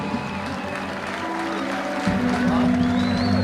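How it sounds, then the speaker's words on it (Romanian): Applause for the Moldova women's beach rugby team at the Rugby Europe Beach Rugby Championship 2024, a steady wash of clapping from the crowd that swells toward the end, with an announcer's voice over it. "Aplauze puternoasă pentru Republica Moldova"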